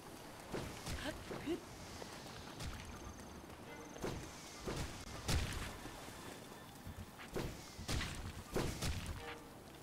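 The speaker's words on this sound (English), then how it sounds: "Okay, stop shooting rocks at me." Rocks striking and shattering around the player in The Legend of Zelda: Breath of the Wild, a string of sharp thuds and cracks spread irregularly through the clip over a busy game background.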